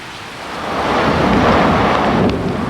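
Torrential typhoon rain from a storm front over Shizuoka Prefecture, Japan, a loud, steady, broadband roar that builds slightly and holds with no voices.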